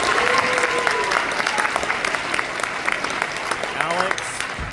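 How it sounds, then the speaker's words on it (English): A crowd at a high school band winter concert applauds loudly and steadily throughout, a thick wash of clapping with voices mixed in. "Round of applause, please."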